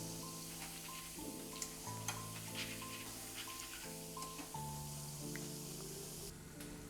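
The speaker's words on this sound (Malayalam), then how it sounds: "ഇനി നമുക്ക് 1/2 കപ്പ് പൊട്ടുകടലയും കൂടെ വറുത്തെടുക്കാം." Roasted gram (pottukadala) fries in hot oil in a perforated ladle for a mixture snack, giving a steady, moderate sizzle beneath continuous background music.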